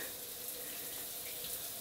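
Shower water running as it warms up in a home bathroom, a steady soft hiss of spray, constant and fairly faint, with no talking.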